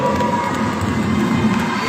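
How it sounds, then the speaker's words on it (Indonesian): A crowd at an Islamic boarding school recitation audition claps and cheers in a dense, continuous wash of noise, loud and close for a brief burst. "beri tepuk tangan untuk saudara Ahmad Nizar dulu"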